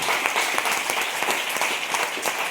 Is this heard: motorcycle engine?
no